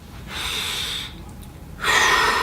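Close, audible breathing: a long drawn inhale, a brief pause, then a strong airy exhale, each breath loud and unaccompanied by speech.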